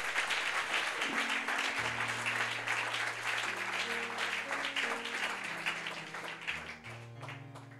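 A church congregation applauds with steady, dense clapping that lasts throughout. Sustained low organ or keyboard tones play underneath, and the clapping thins slightly near the end.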